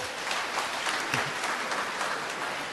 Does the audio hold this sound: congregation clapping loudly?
yes